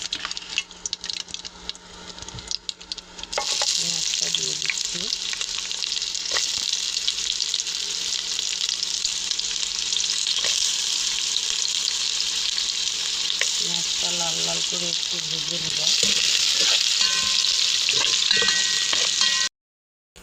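A bay leaf and onions frying in oil in a home kitchen, a loud continuous close sizzle with intermittent stirring scrapes that kicks in after a quiet start and cuts off abruptly at the end.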